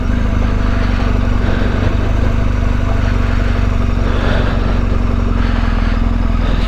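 BMW R 1250 GS Adventure motorcycle engine-braking in first gear down a steep rocky mountain pass, a loud, steady close-up engine drone with rattle and clatter from the rough terrain throughout.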